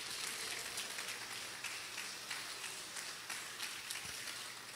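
Steady applause from a church congregation praising Jesus during a Portuguese-language worship service, a continuous broad wash of clapping held at even loudness throughout, with no voices over it.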